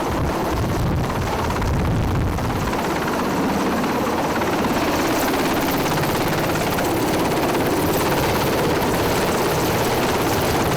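A military helicopter's rotor thunders loud and close in a constant, dense roar, with wind buffeting the microphone throughout during a special forces insertion.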